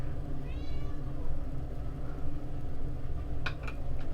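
A house cat meows once, a short clear rising cry, heard close over a steady background fan hum, followed later by a couple of faint clicks.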